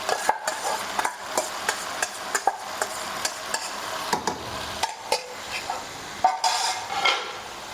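Roasted mutton for karela gosht being stirred in a pan: a spoon knocks and scrapes repeatedly against the metal in an uneven rhythm over a soft, low sizzle, close and fairly clear.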